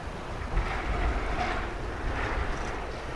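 Wind gusts at a fishing lake buffet the microphone in a continuous rough roar, swelling and easing in a few broad surges with no speech.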